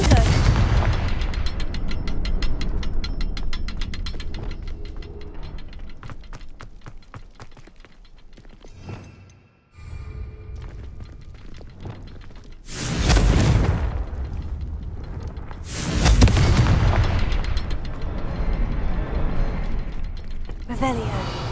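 In Hogwarts Legacy, fire spells explode in heavy booming blasts, with two strong bursts near the end standing out above ongoing game noise.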